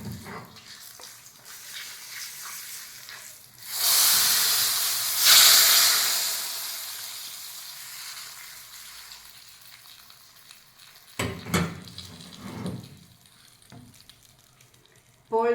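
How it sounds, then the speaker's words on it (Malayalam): Kashmiri chilli powder hits the hot pan of mango curry, setting off a sudden loud hissing sizzle that swells for a few seconds and slowly fades, followed by a couple of short stirring clatters. "ഇതിലേക്ക് ഇത്തിരി കാശ്മീരി ചില്ലി ഇട്ട് കൊടുക്കുകയാണ്"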